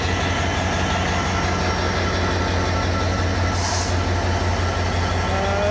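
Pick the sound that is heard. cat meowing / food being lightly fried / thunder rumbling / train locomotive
train locomotive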